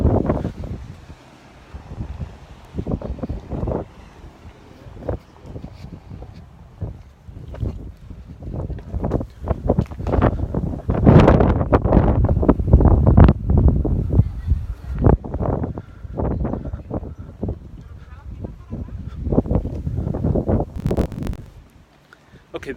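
Strong gusting wind buffets the microphone at a large Spanish fort in Puerto Rico, loud roaring bursts that swell and fade irregularly throughout, with no speech over it.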